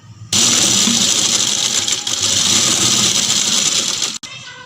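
Sewing machine running steadily with long stitches along fabric for a sharara, a continuous loud mechanical whir that starts abruptly and runs about four seconds before stopping.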